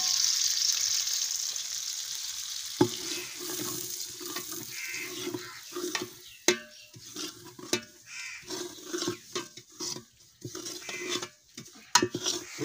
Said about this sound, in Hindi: अब सूजी डालेंगे इसमें,